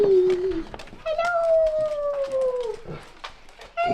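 Pet dogs howl at home as their owner arrives, long rising and falling wails drawn out over several seconds, close and loud, with a person's voice greeting them over the top.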